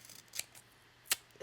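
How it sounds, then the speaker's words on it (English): Scissors snip through paper during a card-making craft session, two or three crisp close cuts spaced apart with quiet between them. "So I'm going to go ahead and just trim this."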